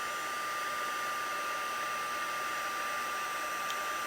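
A heat tool blows a steady, even whoosh of hot air onto embossing powder, constant and close without pause.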